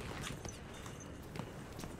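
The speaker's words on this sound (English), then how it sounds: "There's a horse!" Horse hooves clop in the Battlefield 1 video game, a faint, irregular patter of footfalls heard at a distance amid quiet game ambience.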